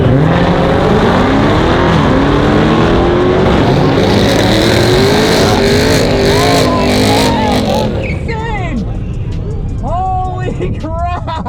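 A Mercedes E63S AMG and a Dodge Hellcat on slicks launch in a drag race, engines revving hard with rising pitch through gear changes before the roar fades into the distance, followed by people speaking.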